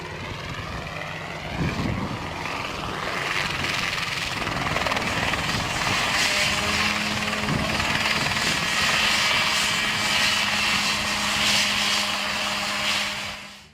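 A Mosquito ultralight helicopter flies with a steady, loud rotor and engine drone throughout, its spinning blades giving a continuous buzzing roar with no voices.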